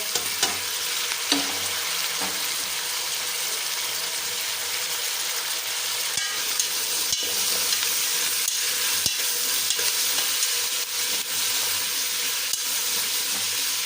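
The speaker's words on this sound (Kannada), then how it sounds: "ಚೆನ್ನಾಗಿ ಎಣ್ಣೆನಲ್ಲೆ ಫ್ರೈ ಆಗಲಿ" Pumpkin pieces frying in oil for a sweet pumpkin palya, with a constant dense sizzle and scattered clicks and scrapes of a utensil against the pan throughout.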